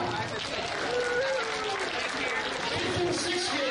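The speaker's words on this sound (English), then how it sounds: "Will you all give a round of applause for the 5th and 6th graders doing that?" Audience applause for 5th and 6th grade performers at a beach show, a steady wash of clapping that holds at a moderate level under faint voices and background chatter for the whole stretch.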